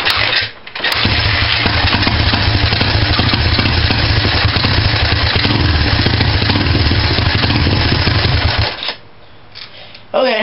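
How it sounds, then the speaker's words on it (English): A Honda dirt bike engine runs loud and steady right after starting, close to the microphone, for about eight seconds. Then it cuts to a much quieter background. "now that I got my bike started"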